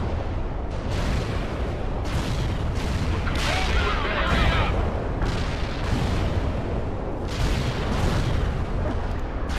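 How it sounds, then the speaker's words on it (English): An artillery strike in the World in Conflict war game, a dense run of heavy booms and blasts rolling one after another at steady loudness, with faint voices mixed beneath. "If we get the points before we've destroyed it, I'll probably just bring in the artillery strike."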